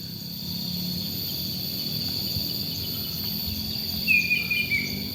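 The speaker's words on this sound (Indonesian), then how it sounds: "Banyak bunyi-bunyi dari burung." A bird gives a few short whistled calls at a distance over a constant high insect drone in an otherwise quiet outdoor setting.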